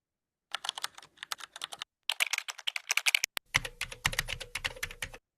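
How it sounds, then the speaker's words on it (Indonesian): Computer keyboard typing, rapid bursts of crisp key clicks in uneven clusters with short pauses between, close and fairly quiet, with no talking. "Kedua yang biasa dipakai itu mengetik tadi, typing."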